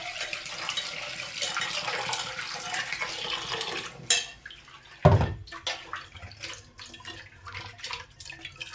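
Water poured into a bowl of dried snails for washing, a running splash that cuts off, then clinks of a bowl and brief rinsing sloshes, close and fairly quiet.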